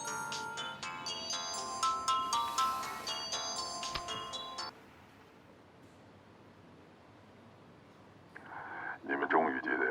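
A mobile phone plays a melodic ringtone for several seconds in a scene from a Chinese suspense TV drama, then stops into quiet room hiss before a voice begins speaking.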